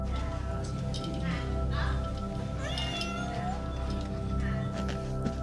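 Robotic pet cat meowing several times, a few short synthetic mews over a steady low background hum, with faint voices talking nearby.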